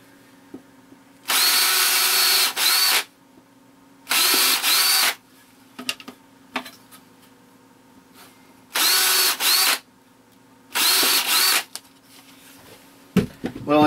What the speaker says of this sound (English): I have to pre-drill them all.